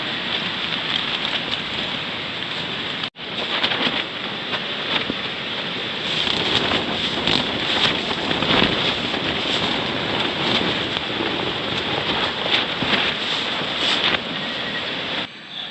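Heavy rain and strong wind from a tropical storm batter a campsite on a mountain peak, a loud, dense, continuous roar of rain on surfaces mixed with gusting wind buffeting the microphone, broken once by a brief cutoff.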